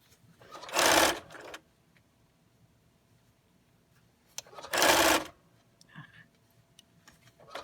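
A sewing machine backstitches through pleated three-layer cotton mask fabric in two short, close bursts of rapid stitching separated by a quiet pause.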